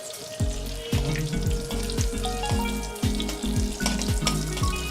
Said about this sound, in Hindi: अब जो ये मैंने देसी घी इसमें डाला है, इसके बीच में मैं जीरा डाल रही हूँ।